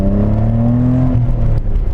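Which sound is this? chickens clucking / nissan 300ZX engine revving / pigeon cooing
nissan 300ZX engine revving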